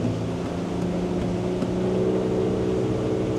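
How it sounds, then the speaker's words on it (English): The engine of a Yellowfin YF-70 Extended Cabin boat hums steadily at around 4,000 RPM, a continuous throaty drone with a slight rise in pitch and no break. "You hear that note change in the engine. It's a bit throatier now, it's looking for a bit more rev."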